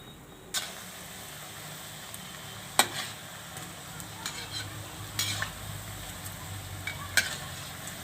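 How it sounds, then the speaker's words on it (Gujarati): Semolina snacks deep fry in oil with a quiet, steady sizzle. A utensil clinks sharply against the pan a few times. "તો આ રીતે આપણે બધાય તળી લેવું."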